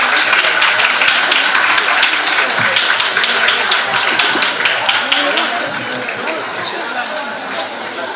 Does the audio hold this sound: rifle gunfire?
no